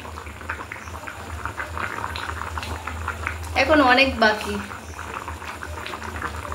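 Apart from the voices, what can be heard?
chicken boiling in a pot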